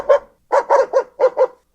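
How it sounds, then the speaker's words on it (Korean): An AI-generated middle-sized dog barking behind a fence, about six sharp barks in an uneven rhythm with short gaps, fairly close and clear with no other sounds. "A middle-sized dog barking behind the fence 이렇게 돼 있죠."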